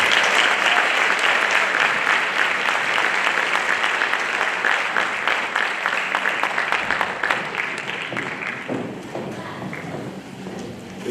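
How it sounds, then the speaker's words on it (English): Audience applause at a spring band concert for a junior high band: dense, sustained clapping from a large crowd filling the whole stretch, slowly thinning toward the end, with a few voices mixed in. "One more round of applause for the junior high."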